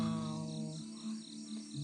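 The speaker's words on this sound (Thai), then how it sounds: "บรรยากาศก็ได้ยินเสียง สัตว์ร้อง จิ้งหรีด เบาๆ" Crickets chirping at a night campsite, a soft steady layered trill with faint pulsing, quiet and distant throughout with no talk.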